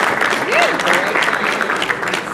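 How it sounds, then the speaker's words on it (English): An audience breaks into steady applause at a ceremony where names are read out, the dense clapping holding evenly through the moment while a voice talks over it. "I told y'all to hold your applause."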